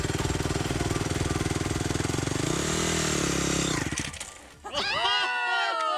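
Cartoon vehicle engine rumbling at a steady throbbing idle, rising as it pulls away, then a short dip and whooshing, revving tones as it drives off, fairly close and loud with no talk over it.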